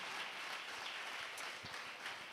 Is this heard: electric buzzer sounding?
no